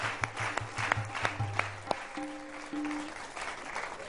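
Applause at a live Diwali stage event in Delhi, with scattered claps and sharp percussive hits over sustained musical tones, fairly loud and continuous for a few seconds without speech.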